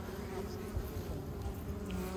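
Honey bees buzzing at the entrance of a large cedar log beehive, a continuous close drone of many insects with steady, even loudness throughout.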